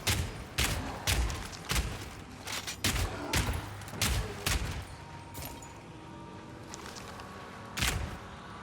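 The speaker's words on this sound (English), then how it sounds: "you can run around inside your own grenade zone" Grenade explosions in Path of Exile 2, a series of sharp, loud blasts in quick irregular succession, thinning out toward the end with one last burst, over low game background noise.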